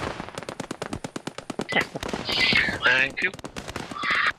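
Ammunition cooking off in Post Scriptum, a rapid string of crackling pops and bangs in a steady rhythm, followed by louder hissing bursts, with a voice speaking briefly over it.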